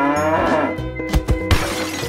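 A single cartoon cow moos loudly and close in a children's paint-and-animals transformation cartoon, a long drawn-out low call followed by brief crashing thuds.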